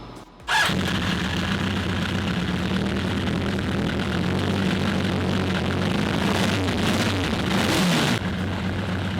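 A 1983 Honda CB1000C motorcycle idles steadily with a low, even engine drone after a carburetor rebuild, heard close up and continuous, with a brief louder burst near the start and end.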